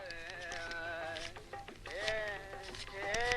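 A goat bleats repeatedly in wavering, nasal cries close by, a few quick calls in a row with faint voices in the background.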